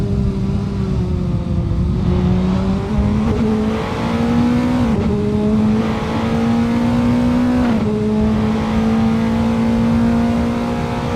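Formula 4 single-seater race car lapping Thruxton Circuit, its engine note loud and continuous, climbing through the gears with brief dips at upshifts around two, five and eight seconds.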